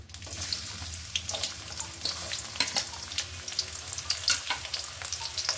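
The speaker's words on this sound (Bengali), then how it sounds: "দিয়ে দিব পেঁয়াজ কুচি।" Chopped onion frying in a pan crackles and spits close by, with a busy stream of small pops and sputters over a low steady sizzle that keeps going without a break.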